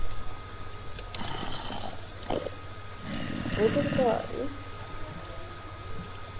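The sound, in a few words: flowing water in the video game Minecraft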